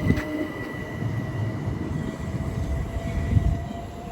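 Class 377 unit 377505 runs an empty stock movement through Ashford International toward the sidings, producing a steady rolling rumble with a faint high whine, heard alone at moderate distance.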